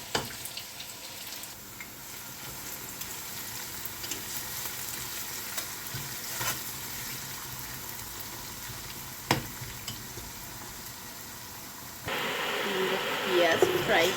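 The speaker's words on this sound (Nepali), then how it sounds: "प्याजलाई फ्राई गर्दैछौँ हामी।" Onions fry in a pan for chicken pulao, a steady close sizzle with occasional sharp crackles and pops, which swells into a louder, brighter hiss near the end.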